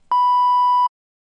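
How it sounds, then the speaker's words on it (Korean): A single steady electronic alarm beep, one loud sustained tone lasting under a second with a sharp start and stop, clean and alone with no voices. "경보음이 도시의 심장부에서 울려 퍼집니다"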